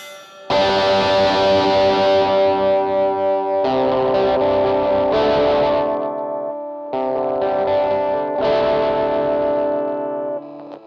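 An electric guitar plays chords through a GOAT Rockman-style pedal with clean tone, ringing with chorus and echo, in several sustained phrases separated by short pauses.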